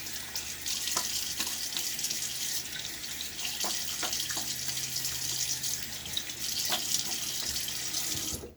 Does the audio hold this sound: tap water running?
yes